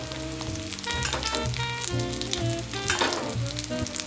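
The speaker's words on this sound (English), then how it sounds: "Now just keep basting. Tilt the pan, spoon it over," Mushrooms sizzle in a hot pan with thyme while fat is spooned over them, a steady, close, loud crackling fry with bursts of spitting as the pan tilts and the basting goes on, no voices.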